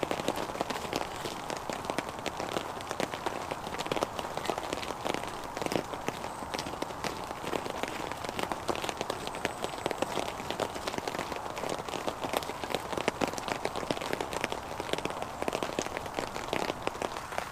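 Steady rain patters on leaves and ground in woodland during a wet-weather bushcraft camp, a dense continuous hiss with scattered nearer drips and a few soft crunching steps, moderately loud throughout.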